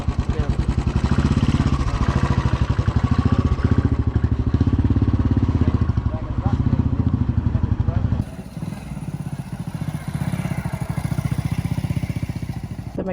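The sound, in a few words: motorcycle engine running while a mechanic fixes it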